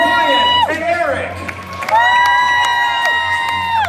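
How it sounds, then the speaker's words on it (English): A live audience section cheers and whoops loudly for the red team at a Fear Factor Live show, sustained crowd noise with shouting voices and a brief dip before swelling again. "Make some noise now for Brian and Eric"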